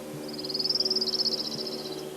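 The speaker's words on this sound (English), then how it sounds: "we want to wrap things up with this sequence of sounds with the orange crown warbler" Orange-crowned warbler singing a single trill of about two seconds, high-pitched and rapid, rising and falling slightly in pitch, heard alone over a steady low background hum.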